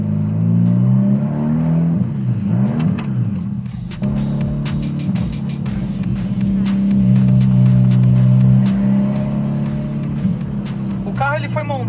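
A turbocharged car engine rumbles and revs continuously nearby on a rainy day, rising and falling with acceleration, while a person talks over it.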